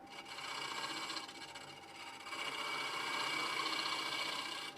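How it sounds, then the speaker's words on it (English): A hollowing tool cuts inside a wood-turned bowl, pushed down the wall with the grain, giving a close, dry scraping hiss that dips briefly partway through, then swells louder and keeps going steadily. "So I'm pushing the tool down the wall, or advancing it down the wall, because of the grain orientation."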